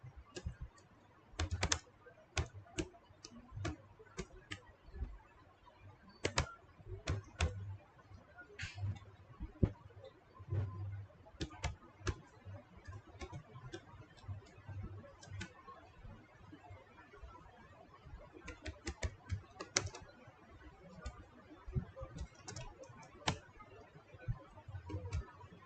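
Computer keyboard typing while Java code is written during live training, steady irregular clicks and short flurries of keystrokes, close and fairly quiet, continuing throughout with no talking.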